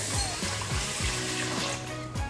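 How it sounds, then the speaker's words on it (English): Water pours into a rice cooker holding a cup of quinoa, a steady close splashing stream with faint, repeated knocks underneath for a couple of seconds. "I am just going in with 1 cup of quinoa into the rice cooker, and I've got 2 cups of water."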